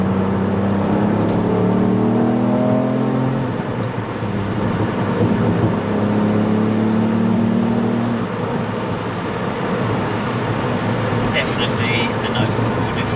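Ford Fiesta ST fitted with a Mountune throttle body accelerating hard in third gear, the engine note rising in pitch over a few seconds, then easing into steady road and engine roar.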